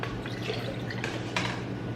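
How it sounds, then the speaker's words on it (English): NingXia drink is poured into a shot glass, a faint steady trickle with small drips and a couple of brief clinks, heard alone over low room hum. "fill it to the top of the shot glass"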